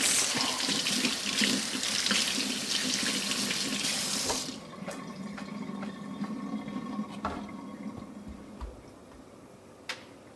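A running kitchen tap gushes steadily into a sink while something is rinsed, loud and close for several seconds, then shuts off, leaving light ticking and tapping noises.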